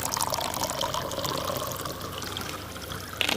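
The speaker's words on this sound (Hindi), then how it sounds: "अब मैं इसमें डाल दूंगी सोडा। तो मैंने यहाँ पर प्लेन सोडा इस्तेमाल किया है।" Plain soda pours in a steady fizzing stream into a litchi drink in a glass, a continuous close bubbling splash that carries on without a break.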